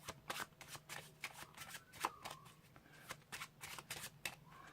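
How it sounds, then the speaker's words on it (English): Close, crisp riffling of a card deck, a steady run of short flicking snaps across the whole stretch with no voices. "There's another shuffle and another card."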